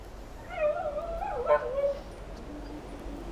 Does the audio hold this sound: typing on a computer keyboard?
no